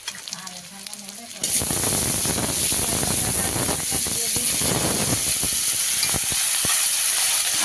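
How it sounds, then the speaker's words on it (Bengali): Onion fries in a wok over a clay stove with a sudden loud burst of hissing sizzle that then holds steady and close, with faint stirring underneath. "তো পেঁয়াজটা তো ভাজা হয়ে গেছে"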